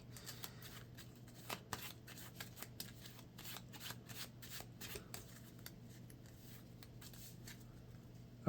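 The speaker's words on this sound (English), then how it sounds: "the other 4 cards get shuffled back into my deck." Playing cards from a Marvel Champions deck are shuffled by hand, giving a quiet, close run of repeated riffling flicks and soft snaps in an irregular rhythm, with no talk.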